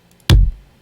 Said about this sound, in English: So I took this kick from a retro drum pack.